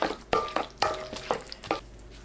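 Gochugaru chili flakes, plum syrup, sugar and salt kimchi seasoning being mixed with scallions in a bowl, heard as several close, wet stirring and scraping strokes spaced about half a second apart.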